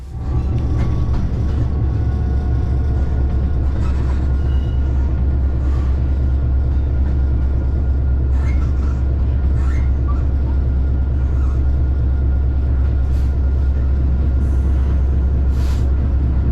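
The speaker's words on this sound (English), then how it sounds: "The train is authorised to proceed as far as the line is clear" A train runs between East Croydon and Acton Lane near Willesden, heard from inside the driver's cab as a loud, steady, low rumble with faint clicks and squeals on top.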